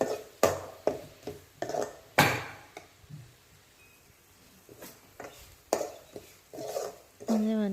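Fresh coriander leaves sautéed in a pan, with repeated clinks and scrapes of a utensil stirring against the metal in uneven bursts, some louder strokes and quieter pauses between.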